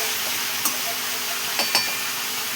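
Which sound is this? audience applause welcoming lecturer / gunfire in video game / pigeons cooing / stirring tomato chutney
stirring tomato chutney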